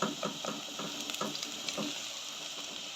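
Garlic and onion fry in a pan, giving a steady, close sizzle with small crackling pops scattered through it.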